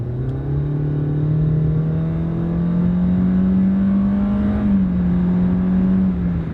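A new car accelerating at full throttle in drive, a loud, close engine roar that climbs smoothly in pitch, dips briefly near the end as if shifting, then keeps pulling, with no voices.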